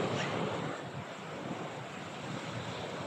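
Sea surf at Onay Beach in Lawaan, Northern Samar on a sunny day, a continuous broad wash of waves mixed with wind buffeting the microphone, steady and fairly loud with no talking.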